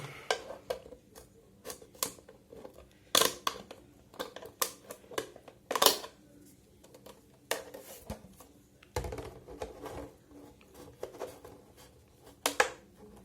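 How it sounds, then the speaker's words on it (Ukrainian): Scissors snip repeatedly while trimming material for a bird feeder, in short, sharp, irregular cuts close by, with quiet pauses between bursts and no talking. "Йдемо на допомогу ножиці"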